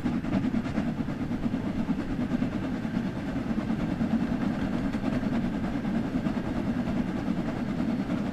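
Steam train from the Train Sim World 2 game rolling along Mosley Hill, with a steady low rumble and faint rhythmic clatter from the wheels continuing evenly throughout, no talk.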